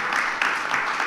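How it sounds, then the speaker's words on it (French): Audience applause at a conference on noise nuisance, a brief dense burst of many people clapping at once, moderately loud and close. "je vous demande de les applaudir à nouveau"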